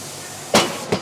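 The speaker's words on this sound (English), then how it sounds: "we go straight onto the tyre machine, straight into the jaws, and start to break the bead" A tyre machine breaks the bead on a car tyre in a workshop, with two sharp, close metallic knocks, the first louder, the second following about a third of a second later.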